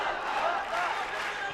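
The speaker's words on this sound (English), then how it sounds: "Crowd trying to get behind." A crowd at an ACA featherweight title MMA fight roars and cheers in a steady, dense wash of noise that holds for the whole moment, with no single voice standing out.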